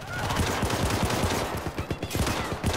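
Rapid automatic turret gunfire in the shooter game Syndicate, a loud, continuous rattling stream of shots with brief stutters, close and dominant throughout.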